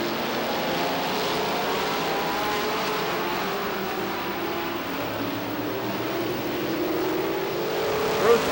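Stock cars roar off at the green flag of a 1989 Busch Grand National North race at Star Speedway, a steady dense engine drone from a distant pack of cars, unbroken and fairly loud throughout.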